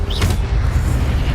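A fire spell cast in Hogwarts Legacy on PS5: a loud, roaring burst of flame with a deep booming low end, sustained and whooshing for over a second.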